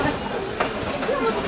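A steam-hauled passenger train running in reverse with the locomotive at the rear, on a trip from Tottenham to Beeton, Ontario: a steady, close rolling rumble with wheel and carriage noise throughout.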